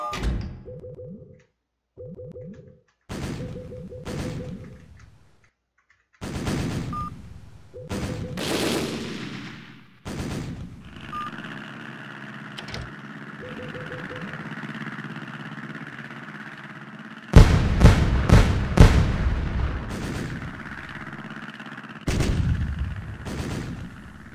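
Naval gunfire erupts in the Navyfield ship battle game, a series of separate booming shot groups with gaps between them, building to heavier, louder salvos near the end along with a steady engine hum.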